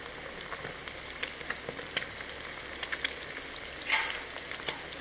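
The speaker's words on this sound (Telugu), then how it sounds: "దీన్ని ఇప్పుడు మనం మంచిగా కలుపుకోవాలి." Egg fried rice being mixed in a hot pan, a quiet continuous sizzle broken by light scraping clicks and taps of the spatula, with a brief louder clatter near the end.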